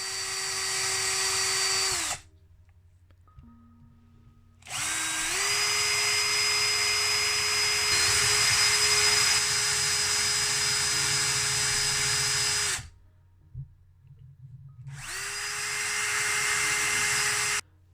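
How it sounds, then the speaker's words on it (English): A small power drill bores and taps holes in a 1979 Lesney Matchbox Superfast No. 28 Lincoln Continental Mk V die-cast toy car. It whines in three long bursts with a steady pitch and clear pauses between them. "So after drilling and tapping, trial fit the screws"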